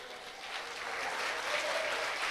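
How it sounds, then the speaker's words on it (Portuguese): A church congregation applauds in a steady, broad wash of clapping that swells slightly and holds for a couple of seconds, fairly close and without voices over it. "Pode aplaudir a Jesus por isso?"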